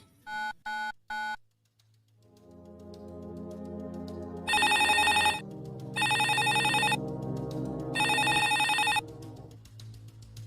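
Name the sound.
telephone ringing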